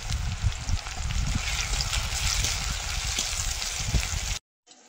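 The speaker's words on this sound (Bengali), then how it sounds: "পেঁয়াজ রসুনটা ভাজা হয়ে গেছে" Onion and crushed garlic sizzle steadily in hot oil in a wok for prawn malai curry, a dense continuous frying hiss that stops abruptly just before the end.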